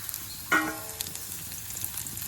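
Dried red chillies dropped into hot oil with browned onions give a brief, sharp sizzle that quickly settles into a low, steady frying hiss with faint crackles, without any voices.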